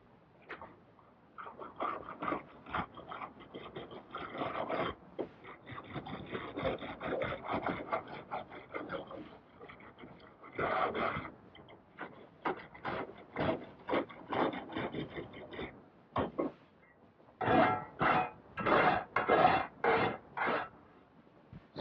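A bent half-inch conduit tool pressed and dragged along mortar joints between concrete blocks while building a fallout shelter, close scraping and rasping strokes in irregular bursts, growing into sharp rhythmic scrapes toward the end, with no talk.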